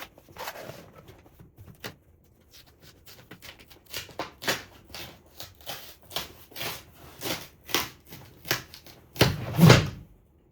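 Irregular metallic clanks and knocks from heavy metal pieces of an IKEA standing desk build in frequency, ending in a louder heavy clatter, close by.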